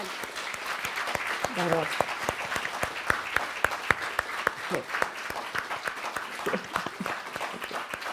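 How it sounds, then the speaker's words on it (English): Applause in a room, an audience clapping steadily with crisp individual claps audible, while a voice speaks briefly over it. "I hope you at least hear the applause in the room"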